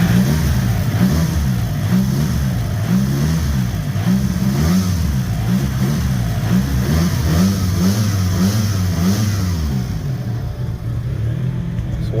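A 1991 Eagle Talon 1G DSM engine idling steadily after a cold start, a close, continuous low rumbling throb with a regular pulsing rhythm and no surge in speed, running alone without talk.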